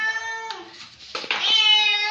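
A young male house cat that eats all day gives drawn-out, tonal meows close by, one at the start and a longer one at the end, with brief rustling between.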